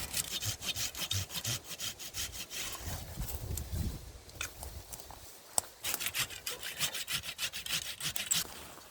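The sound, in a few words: hand saw cutting tree branches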